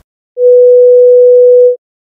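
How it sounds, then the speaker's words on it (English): Pure sine tone at B4 from an online tone generator, one loud steady note lasting about one and a half seconds with clean starts and stops, alone in silence. "This one I have set to B4."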